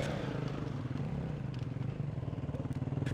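A KTM enduro motorcycle is ridden nearby, its engine throbbing with a steady, loud, pulsing rumble and slight rattles throughout.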